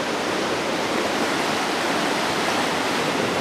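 A river in Hope, Alaska rushes past close by, a loud steady wash of flowing water with no pauses and no voices.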